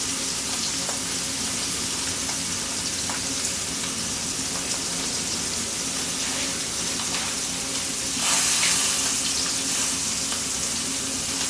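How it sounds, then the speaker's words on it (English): A kitchen tap runs steadily while hands are washed, a continuous hissing flow with small splashes and a brief louder gush near the end, with no talking. "Okay, let me wash my hands."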